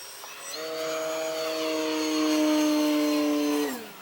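A HobbyKing Arcus F3A electric RC plane on a 3S battery makes a full speed pass, its motor whining steadily and rising as it nears, then its pitch drops sharply as it passes.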